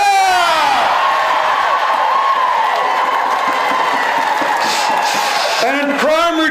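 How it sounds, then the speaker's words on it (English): A large crowd of teachers at a street rally for better pay and conditions cheers and whoops loudly, a sustained roar of many voices with a fresh swell of shouts near the end. "I want to hear a really, really big shout out, a big cheer for our kāko teachers in kindergarten."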